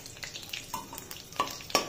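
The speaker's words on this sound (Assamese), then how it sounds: "ইপিনে তেল গৰম কৰি লৈছোঁ, শুকান জলকীয়া আৰু তেজপাত দুখিলা দি দিছোঁ।" Dry red chillies and bay leaves fry in hot oil, giving a faint, close crackle with scattered small pops and sizzles.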